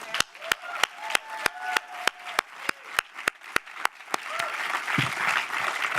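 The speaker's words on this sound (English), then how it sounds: "Let's give another round of applause for all of our storytellers." Audience applause for the storytellers at a 2018 evening storytelling event: sharp, evenly spaced claps stand out over a bed of crowd clapping with a few voices and whoops, then the applause thins and settles into a looser crowd noise near the end.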